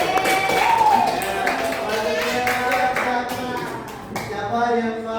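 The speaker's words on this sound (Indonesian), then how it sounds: "Oke, bagus, tepuk tangan." A school class claps hands together in a classroom, a few seconds of scattered, moderately loud clapping mixed with children's voices.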